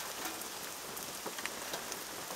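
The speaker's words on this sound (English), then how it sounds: "They can be outside in the rain." Rain falls steadily outside at Grayson Highlands State Park in Virginia, a close, even patter of drops on surfaces with no pauses.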